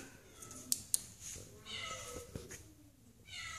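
Kittens meow softly a few times, with short high mews over a quiet room and faint background murmuring.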